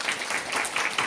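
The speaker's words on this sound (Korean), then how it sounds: "삼형제분께 감사 박수 한번 하시겠습니다." Brief burst of audience applause at a Korean event honoring US Air Force Colonel Dean Hess, clapping close and fairly loud, dense and uneven.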